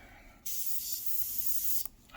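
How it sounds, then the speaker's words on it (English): A steady airbrush hiss at about 10 to 12 psi starts abruptly, sprays paint continuously for about a second and a half, then cuts off. "I'm going to be spraying about 10 or 12 psi."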